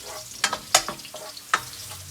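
Garlic and ginger sizzle in hot oil for chicken tinola, a steady close frying hiss broken by a few sharp scraping stirs.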